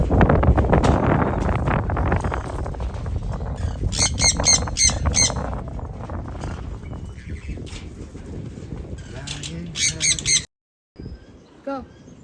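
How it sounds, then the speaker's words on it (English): Sun conures squawking in an aviary alongside galahs and bare-eyed corellas, repeated shrill bursts over steady wind noise and a near voice, with a brief dropout near the end. "sun conures."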